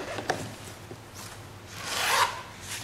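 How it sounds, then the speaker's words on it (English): Cordura safety-harness fabric being cut, a close rasping, rubbing scrape that swells and grows loudest near the end of the short stretch, with a few fainter scratchy strokes earlier. "I'm going to take and cut a piece here."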